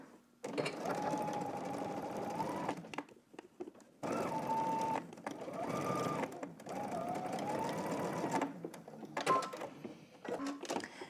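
Close up, a sewing machine understitches the seam allowance to the facing on a pair of pants, running in several sustained stitching bursts separated by brief stops.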